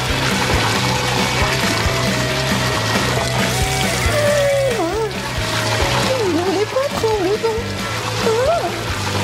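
Water pours and splashes continuously from a button-triggered trap, a loud, dense gushing and spattering, with people talking and exclaiming over it.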